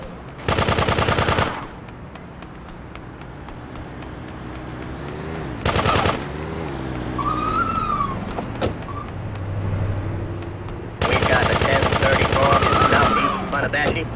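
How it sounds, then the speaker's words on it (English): Machine gun fire in the top-down game GTA 2 rattles out in three loud sustained bursts, separated by quieter stretches of engine hum, sirens and game effects. "Machine gun!"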